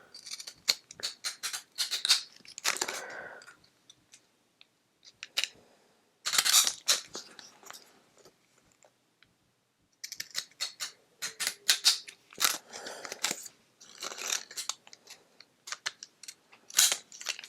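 Scissors snip a scalloped edge into card paper, with bursts of crisp, closely recorded cutting clicks separated by short pauses and a longer silent gap midway.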